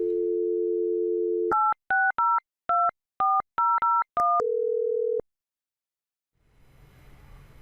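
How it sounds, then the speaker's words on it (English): On an office desk phone, a steady dial tone is followed by a quick series of about nine keypad beeps at uneven spacing, then a longer lower tone and a faint background hiss. "Press hold and then new call and dial to make the new call"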